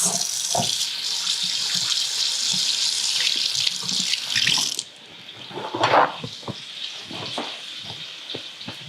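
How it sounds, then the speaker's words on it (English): Water gushes loudly from a pot filler faucet into a pasta pot in a kitchen, a steady rushing stream that cuts off partway, followed by quieter clinks and handling sounds. "we're gonna use this nifty tool and fill our pot"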